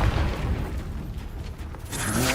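A Confringo explosion spell in Hogwarts Legacy, a single close booming blast that rumbles and fades over a couple of seconds, with no talk over it.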